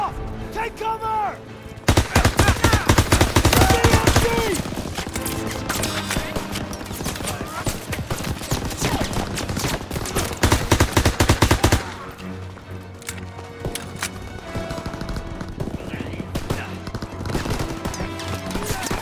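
Heavy machine-gun and rifle fire on a D-Day beach near a farmhouse in the WW2 shooter Call of Duty, with a gun firing from a hayloft. A dense, loud barrage runs for about ten seconds, then thins to scattered shots under shouted voices.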